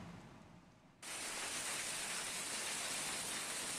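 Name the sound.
heavy rain mixed with hail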